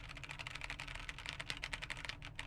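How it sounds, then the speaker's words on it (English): Typing on an Npet K63 keyboard, a soldered switch tester, with a steady run of close, fairly loud mechanical key clicks in quick irregular rhythm and no talking. "as you can hear, is a lot louder"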